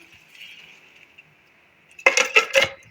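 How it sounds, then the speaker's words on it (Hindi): Ice cubes clink and rattle into a glass of peach juice in a kitchen, a few sharp clattering bursts near the end after a faint steady hum. "इसमें हम बर्फ़ शामिल कर लेंगे"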